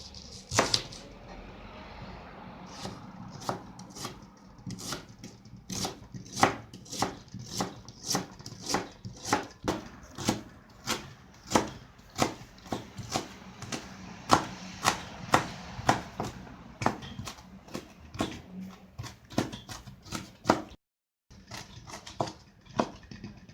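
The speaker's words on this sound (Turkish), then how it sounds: "Öncelikle kuru soğanımı doğrayarak başlıyorum." Dry onion chopped with a knife on a cutting board for lahmacun filling: a long run of sharp, evenly spaced close knocks, one after another, with a brief pause near the end.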